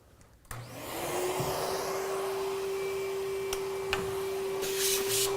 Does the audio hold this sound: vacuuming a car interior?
yes